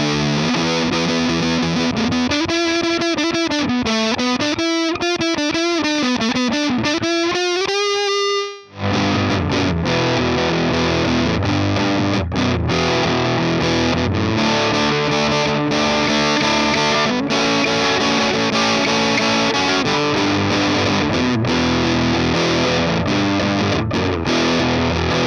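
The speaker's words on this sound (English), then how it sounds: "these two solid-state amplifiers that I built, which are the size of a guitar pedal" Distorted electric guitar played through small homemade solid-state amplifiers the size of a guitar pedal, a sustained bending lead line giving way to loud, continuous driven chords and riffs with no talk.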